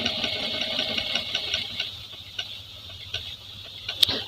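A Jack A4f sewing machine runs a decorative pattern stitch, each stitch doubled back; a close, faint mechanical whir with light ticking clicks, fading toward a sharp click at the end.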